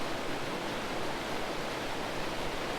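Rushing stream water flows steadily in a broadband wash that never lets up, close and fairly loud, with no voices.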